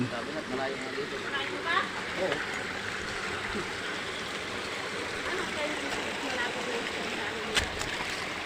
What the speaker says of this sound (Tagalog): Ito ang tinatawag na ilog.